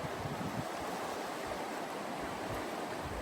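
Choppy open water splashes and washes in a steady, continuous rush, loud and close, with no voices over it.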